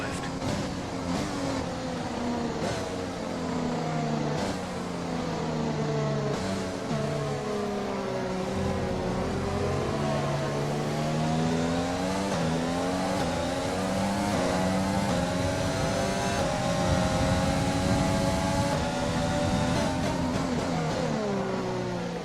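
A Formula 1 car engine in F1 2020 at the Chinese Grand Prix, a loud continuous high-pitched whine rising and falling through gear changes and revs for the whole stretch.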